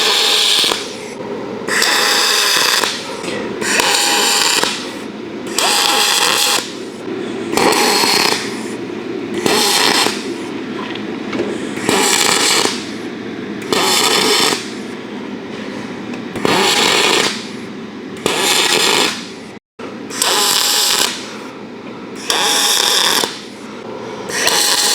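MIG welding of aluminum channel using an ArcCaptain MIG 205MP welder for a repair: loud, steady crackling buzz laid down in repeated stitch welds of about a second each, separated by brief pauses, with no talking.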